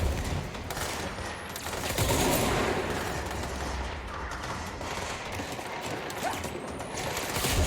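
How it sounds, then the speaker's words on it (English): Sustained gunfire fills a firefight in the video game Control: rapid, overlapping shots and bursts form a dense, continuous barrage with a crashing debris-like texture and no clear pauses. "I don't like how much gunfire is coming at me"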